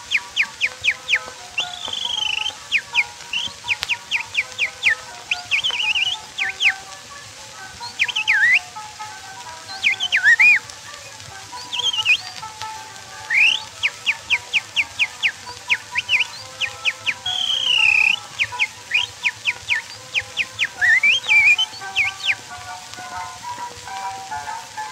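A man whistles an imitation of birdsong in an 1898 recording, with rapid chirps, trills and sliding warbles in repeated bursts over a steady background hiss of the old recording, and no talking.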